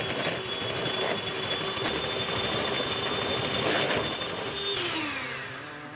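An electric stand mixer, a Kenwood Chef, beats eggs into cake batter for a pineapple upside-down cake with a steady close whirring motor drone that winds down at the end.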